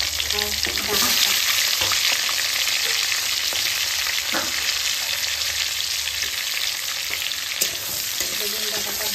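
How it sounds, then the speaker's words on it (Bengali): Brinjal and drumstick stalks frying in oil, a loud constant sizzle with occasional soft stirring clicks, close and steady throughout, with no voices. "বেগুন ডাঁটাটা ভাজা হোক।"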